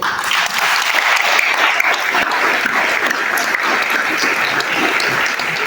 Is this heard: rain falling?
no